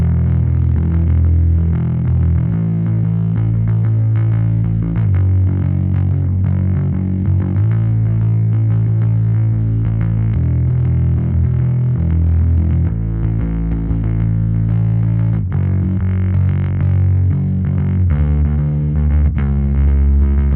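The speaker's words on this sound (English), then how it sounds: "So the bass line that I came up with is gonna sound like this." A distorted, effects-laden bass line plays a simple repeating riff, loud and up front, with low notes cycling in a steady groove.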